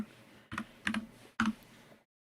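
A few quick bursts of keys being tapped on a computer keyboard, three short clusters of clicks close by, then silence.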